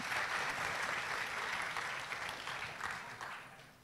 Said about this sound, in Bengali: আমাদের প্যানেলের জন্য একটা জোরে হাততালি সবাই প্লিজ